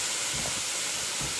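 Ground beef for a gourmet hamburger helper sizzles in a pan with a steady, close hiss and faint crackles.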